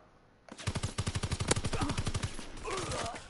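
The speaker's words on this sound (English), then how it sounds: "keep shooting your gun, bro" A rapid burst of automatic gunshots from a video game, about twenty close, punchy shots in quick succession after a quiet start, fading into a noisy tail.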